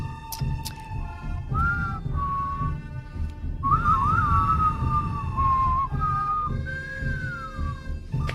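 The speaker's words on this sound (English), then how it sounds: "You want to have a whistle off like we used to?" A person whistles in a whistle-off, a clear warbling melody with sliding pitches and held notes over a steady low background hum, loud and close, with no talking.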